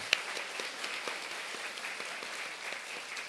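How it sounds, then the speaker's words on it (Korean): A church congregation at an Easter Sunday service applauds together, a soft, even patter of many hands heard from some distance, steady throughout with no voices on top. "박수로 우리 축하하고 격려하겠습니다"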